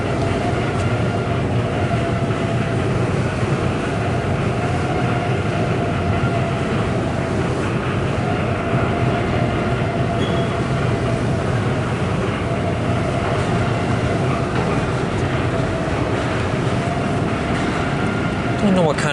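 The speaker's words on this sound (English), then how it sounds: "these are the inclined elevators here at the Hudson Yards subway station in New York, New York." Inclined elevator at the Hudson Yards subway station in New York, a continuous loud mechanical rumble with rattling, droning throughout with a voice faintly mixed into the steady noise.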